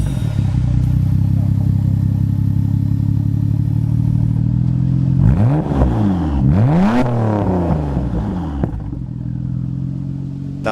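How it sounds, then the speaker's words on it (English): A Nissan Skyline R33 with an aftermarket exhaust idles with a low burble, then gets two sharp throttle blips that rise and fall before settling back to idle, loud and close. "Want to get the exhaust start up?"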